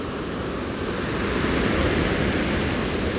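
Strong sea waves pound the shore in stormy, windy weather, making a continuous, loud, broadband roar of surf with wind noise and no breaks or talking.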